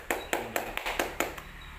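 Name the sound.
applause, hands clapping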